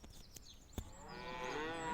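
Cows moo in a long, rising bellow after a few faint clicks, with the low call swelling louder toward the end.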